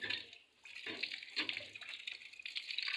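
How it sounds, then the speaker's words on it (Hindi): Water gushes from a hand pump as boys wash their faces, a steady close splashing flow with several surges as the handle is worked, no voices. "एक नलका गेड़ा, दूसरा मुंह धो रहा है।"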